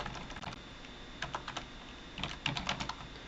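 Quick keystrokes on a computer keyboard come in short bursts of soft clicks with brief pauses between them, quiet and close, with no one speaking.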